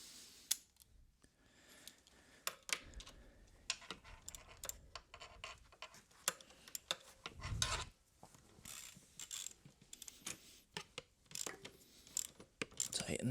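Ratcheting and metallic clicks from a wrench snugging a bolt on a Tork Pro Sport mountain bike rear shock during installation, close and fairly quiet, with scattered handling knocks and a louder thump near the middle.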